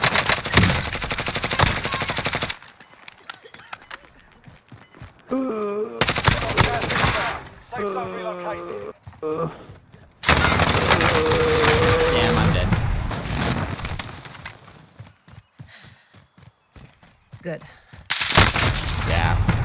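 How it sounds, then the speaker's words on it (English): Gunfire in Call of Duty Warzone comes as loud bursts of rapid automatic fire split by sudden gaps and quieter stretches, with a player's voice talking between and over the shots. "That thing shoots so quick, but it runs out of ammo too quick."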